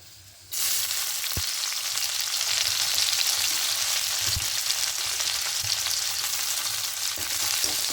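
Chopped onions hit hot oil in a wok with a sudden loud hiss that settles into a steady, dense sizzle, with a few soft knocks of a spatula, close and without speech.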